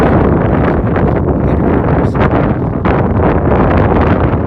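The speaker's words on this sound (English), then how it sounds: "I know you can't hear me because it's windy." Heavy wind buffeting the microphone, a loud, continuous low rumble that swells and dips in gusts throughout.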